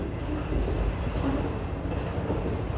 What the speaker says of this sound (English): Pretty long train.